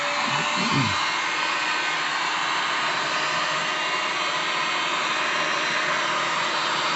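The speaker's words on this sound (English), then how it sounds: "Then grab your heat gun, nice and hot." A hot heat gun roars steadily and loud throughout, blowing hot air over a plastic motorcycle windscreen being bent over a pipe, with a brief low thump near the start.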